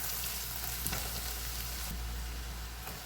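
Continuous dense sizzling of garlic frying in a pan, close and steady with faint clinks now and then and no talking.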